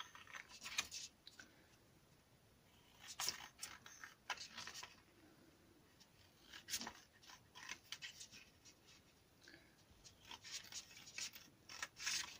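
Scissors snip through cardboard while a baby carriage is being made, with quiet, irregular cuts, rustles and scraping handling sounds close by, with no voices.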